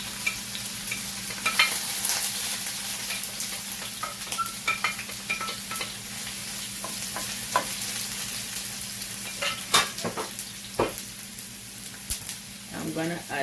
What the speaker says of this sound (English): So I'm gonna fry up the saltfish a little bit on the side.